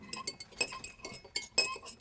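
Cheap IKEA cutlery clinked together as foley for a fight scene, several bright metallic clatters in irregular bursts, close and fairly quiet, with no talking.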